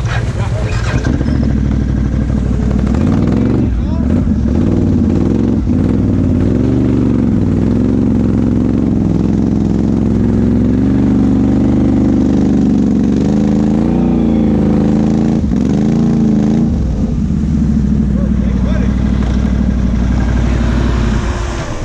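Off-road vehicle engine idling in mud, a loud steady close rumble with slight wavering throughout, people talking over it.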